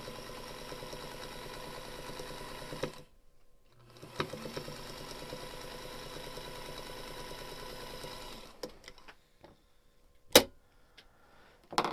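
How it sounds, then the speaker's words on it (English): A sewing machine stitches a quarter-inch seam on a patriotic star quilt in two steady whirring runs split by a short pause, followed by a few light clicks and handling taps, close and quiet, no speech. "Let's give it a 1/4 inch seam to put it on."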